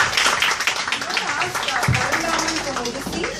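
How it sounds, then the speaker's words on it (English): Audience applause for Arun at a yoga gathering, where he has just won a mug: scattered, moderately loud clapping throughout, mixed with crowd chatter. "Can we give Arun a big round of applause?"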